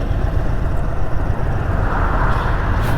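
An Indian Super Chief motorcycle engine runs with a steady, loud, somewhat tinny drone. It holds an even level throughout, with no speech.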